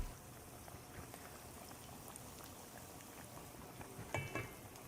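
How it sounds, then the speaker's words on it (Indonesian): Spoonfuls of vegan East Javanese corn fritter batter fry in hot oil, giving a steady, dense crackle and sizzle with a brief burst of louder popping near the end; no voices. "Ambil sesendok penuh adonan jagung dan masukkan perlahan ke dalam minyak panas."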